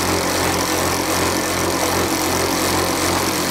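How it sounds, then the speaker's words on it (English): Mamod stationary steam engine fired by methylated spirits runs steadily as its fuel burns low, a constant loud hissing, whirring mechanical drone close by with no speech. "you can hear the steam engine is slowly but surely running out of steam"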